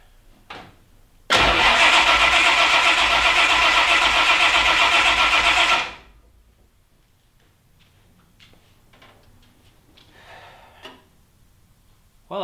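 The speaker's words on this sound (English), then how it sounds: "and crank the engine." A car engine with a new replacement engine and a compression gauge hose fitted cranks loudly for about four and a half seconds, a dense steady churning close by, then stops, leaving quiet workshop clatter.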